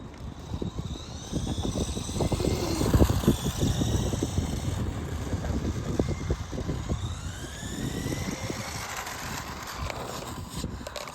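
A radio-controlled 1980s Tamiya Hornet or Tyco Jet Hopper toy car drives nearby with a whining electric motor that rises and falls in pitch as it speeds up and slows, over rough ground noise.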